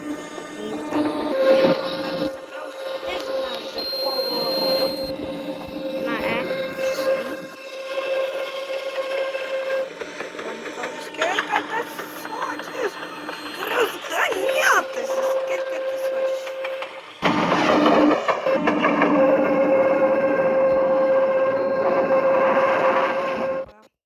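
Tram ride in the Roblox video game, a steady rolling rumble with sustained tonal hums and clatter running throughout, loud and continuous, with a brief drop before resuming stronger near the end.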